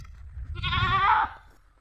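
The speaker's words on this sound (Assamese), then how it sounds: "কেইটামান ছাগলী দেখা পাইছোঁ" A single goat gives one clear, wavering bleat lasting under a second, close and loud over low background rumble.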